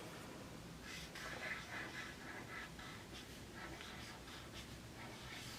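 Pen hand lettering on paper, with faint, soft scratchy strokes that come in short bursts over a low, steady room hiss. No one speaks.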